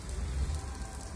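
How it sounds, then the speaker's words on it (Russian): Rain falling steadily in Divnomorskoye, a soft continuous patter and hiss with a low rumbling undertone, close and unbroken for a brief moment. "Так что показала вам немножечко дождик."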